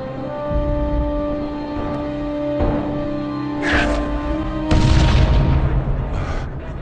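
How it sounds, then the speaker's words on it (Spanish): A movie explosion booms with a heavy low rumble, followed by a second, louder blast that rolls on with sustained roaring and crackling debris over continuous background tones. "¿Escuchaste eso? Fue una explosión."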